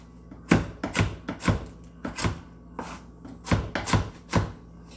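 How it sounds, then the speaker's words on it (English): A knife cuts vegetables into large julienne sticks on a board, with close, crisp chops landing in small uneven clusters of two or three strokes and short pauses between. "Now I'm going to cut those into sticks, like a large julienne kind of."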